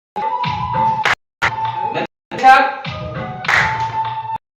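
A group at the Brahma Kumari ashram in Rourkela claps hands together during a breathing exercise. The loud clapping comes in rhythmic spells separated by short silences, with an instructor's voice mixed in.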